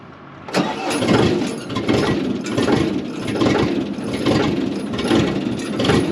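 Heavy equipment engine revving under throttle, a loud rough roar that swells and dips in uneven surges, close and continuous.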